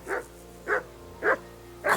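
A dog in Kingdom Come Deliverance II barks four times at a steady, evenly spaced rhythm, each bark loud and close over a low, quiet ambient bed with no talking.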